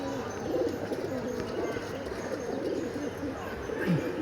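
Pigeons keep up a continuous low, burbling coo close at hand, a soft steady murmur with no clear breaks.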